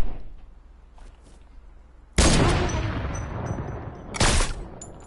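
Heavy sniper rifle shots in a video game, a loud sharp blast with a long decaying tail followed by a second booming shot, close and prominent after a quiet start.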